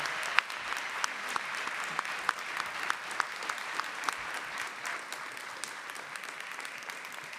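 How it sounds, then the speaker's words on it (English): Final round of applause for candidates at a gubernatorial election forum hosted at LSU, a dense steady clapping crowd with a few sharp claps popping out, continuous throughout. "let's get one final round of applause for all of our candidates this evening"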